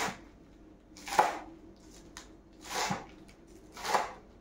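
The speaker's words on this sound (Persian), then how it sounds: "من برای شروع اول اسفناجامو خورد میکنم، نه خیلی ریز نه خیلی هم درشت" A knife chopping fresh spinach on a cutting board, three crisp cuts spaced about a second and a half apart, close and clear in a quiet kitchen.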